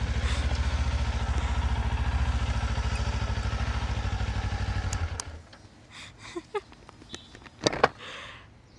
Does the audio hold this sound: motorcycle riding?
yes